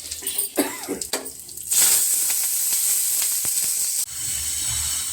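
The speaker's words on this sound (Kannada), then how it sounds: "ಇವಾಗ ಒಗ್ಗರಣೆ ಹಾಕಬೇಕು" A brief voice and clatter give way to a sudden loud hissing sizzle of cumin and mustard seeds hitting hot oil for a tempering, which crackles steadily and briefly dips before continuing.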